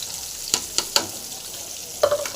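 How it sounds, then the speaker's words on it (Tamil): Green chillies dropped into hot oil give a few sharp crackles and pops, then a brief sizzling burst near the end, close by over a quiet background hiss. "போட்டு நல்லா ஃப்ரை ஆகட்டும்"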